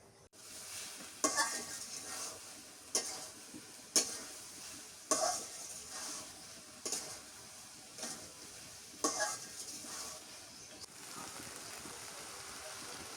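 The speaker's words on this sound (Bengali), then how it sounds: "কষানো হয়ে গেছে" A curry of taro stolons and jackfruit seeds sizzles in a village kitchen pan while a spatula scrapes and stirs it in sharp, regular strokes every second or two over a steady frying hiss.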